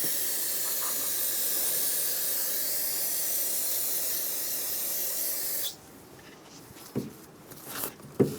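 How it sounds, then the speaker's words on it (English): Parts cleaner is sprayed on the rear brakes of a 2015-2021 Subaru WRX in a long, loud, steady aerosol hiss lasting over five seconds, then stops, followed by a few soft rubbing and handling knocks. "Using parts cleaner and a clean rag, we're going to get rid of all of that brake fluid that leaked out."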